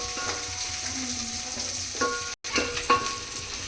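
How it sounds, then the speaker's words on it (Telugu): Onions frying in a pan for a vegetable dum biryani give a steady crackling sizzle with a few louder spatters and a brief gap partway through, with no voices. "కొద్దిగా దూరగా ఆనియన్ బాగా వేయించుకోండి."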